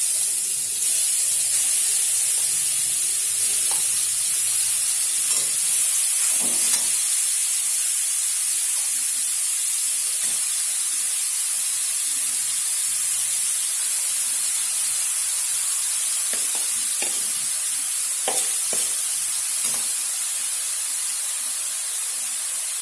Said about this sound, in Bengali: এই গাজরটা আমি ঘিয়ের মধ্যে দিয়ে দিচ্ছি